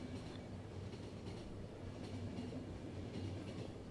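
Steady rumbling rail noise of a moving train in the game The Final Station, a continuous low clatter with faint rhythmic clicks, heard alone without voices.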